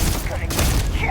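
The Keelhauler, a spread-shot gun in Starfield, fires in one loud, broad blast with a quick decaying rumble, close and dense.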